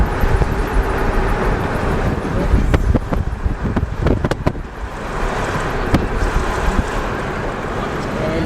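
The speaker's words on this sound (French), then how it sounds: "il y a du vent." Steady wind buffeting the microphone beside a river on Isle-aux-Coudres, a loud continuous rumble with occasional gusty thumps throughout.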